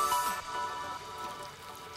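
Water from a newly built backyard pond fountain, tested for the first time, splashes and patters steadily and close by, a continuous rain-like spray with no talking.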